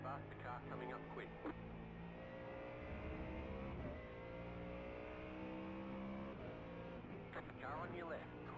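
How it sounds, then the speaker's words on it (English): A Mustang GT3 race car engine in iRacing at Watkins Glen holds a steady droning whine as a faster car closes in, faint and under continuous talk. "Faster car coming up quick."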